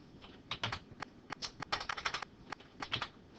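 Keys click in quick bursts of typing on a computer keyboard, close and soft, with short pauses between runs of keystrokes and no speech.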